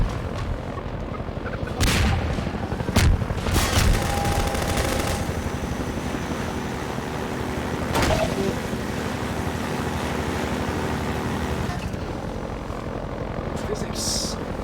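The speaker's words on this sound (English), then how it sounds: "Those damn bombs again." Bombs explode during Half-Life 2 gameplay as several sharp, loud blasts over a constant droning engine-like roar. Bursts of rapid gunfire and a steady hum fill the gaps in between.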